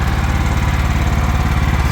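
A 2004 John Deere L110 lawn tractor, smoking badly, runs its small engine as it drives off, a steady, fairly loud pulsing putter with even firing beats and no speech over it.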